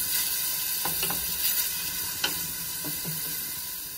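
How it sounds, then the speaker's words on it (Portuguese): Ingredients for quail rice sautéing in a pan, a steady close sizzle with a few scraping stirs of a utensil breaking through, and no one talking. "Vou deixar saltear mais ou menos 1 minuto ou 2"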